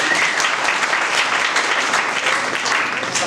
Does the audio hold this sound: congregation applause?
yes